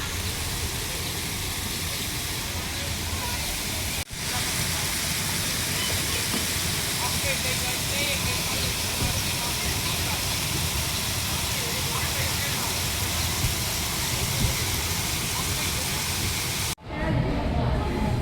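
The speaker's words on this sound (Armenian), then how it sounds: "Ջրի ձայնը" Water flows in a park with a steady, loud, rushing hiss that continues throughout, while voices talk faintly underneath.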